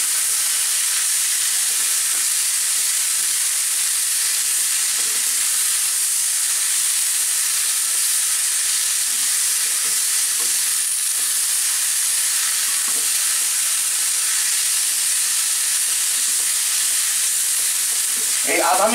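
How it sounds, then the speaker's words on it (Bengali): Chicken and vegetables stir-fried Chinese-style on high heat make a loud, unbroken hiss with faint occasional stirring strokes over a long stretch. "আমি কিন্তু হাই হিটে ভাজতেছি, চাইনিজ রান্না সবসময় হাই হিটে করতে হয়।"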